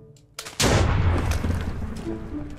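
A TNT-launching weapon from Balkon's Weapons Mod fires in Minecraft, a sudden loud blast that rolls into a sustained rumbling roar filling the rest of the moment.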